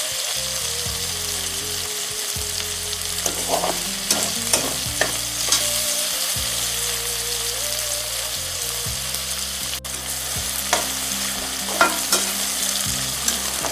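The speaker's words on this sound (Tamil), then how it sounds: "எண்ணெயில் ஃப்ரை ஆகட்டும்." Food fries in oil in a pan for Arabic Bukhari chicken and rice, a continuous close sizzle broken by frequent stirring clinks and scrapes, with no talking.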